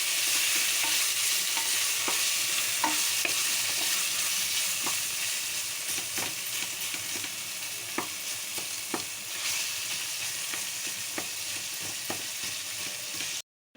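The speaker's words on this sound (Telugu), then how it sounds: "అల్లం వెల్లుల్లి పేస్ట్ ఫ్రై అవ్వాలి." Ginger garlic paste fries in a pot for chicken biryani, a continuous loud sizzle broken by scattered sharp clicks of a spoon stirring against the metal.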